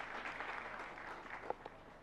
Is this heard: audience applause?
yes